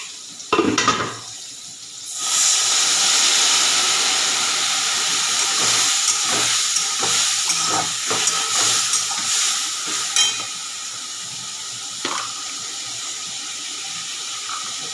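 Water splashed into a hot pan of spices with chili powder bursts into a sharp hiss, then settles into a steady, loud sizzle with faint stirring clinks throughout.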